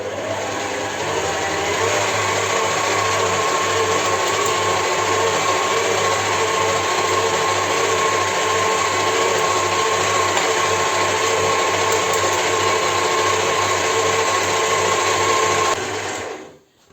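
An electric mixer whipping eggs whirs loudly and steadily for many seconds with a constant buzzing hum, then cuts off abruptly at the end.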